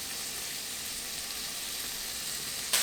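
Steaks sear in a hot pan with a steady, even sizzle throughout, close and constant, brightening sharply right at the end.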